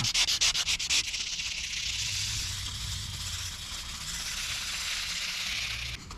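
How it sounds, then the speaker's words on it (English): Continuous fine sanding of gel coat with 1200 grit sandpaper, a smooth steady rubbing hiss, preceded by several quick rhythmic back-and-forth strokes at the start. "You're just basically sanding the sand scratches out."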